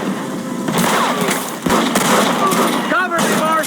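Gunfire from a Western shootout in Red Dead Redemption, sharp repeated shots cracking through a dense, noisy battle under shouted voices.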